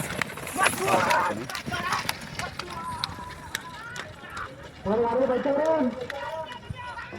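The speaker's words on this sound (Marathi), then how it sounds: "एक आली बैलजोडी बघा कशी पळते बघा मित्रांनो" Pounding hooves of a bullock pair racing in a traditional bullock cart race, a quick rhythmic drumming beneath loud, excited commentary from someone talking over the run.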